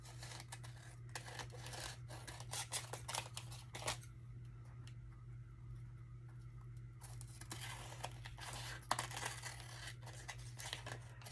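Scissors cut around a sheet of scrapbook paper in a quiet room, giving soft, irregular snips and paper rustles over a low background hum, with a brief lull in the middle.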